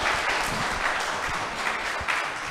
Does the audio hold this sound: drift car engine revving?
no